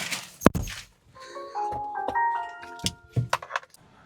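A bunch of keys jangles and clinks while a parked vehicle is being unlocked, with a few sharp metallic taps and rattles, then a short burst of chiming electronic tones and more jingling near the end.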